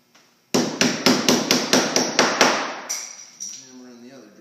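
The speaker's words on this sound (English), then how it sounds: "You can just hammer in the drawer front adjusters." A rapid run of about nine sharp hammer strikes driving in drawer front adjusters on a Euro-style cabinet, loud and close, followed by a couple of slower taps and a faint voice.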